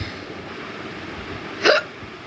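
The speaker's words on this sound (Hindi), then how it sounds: "हिचकी लग रही है फ्रेंड, पता नहीं कौन याद कर रहा है।" A woman gives a single short, sharp hiccup during a Karva Chauth puja at home, heard close over a steady background hiss.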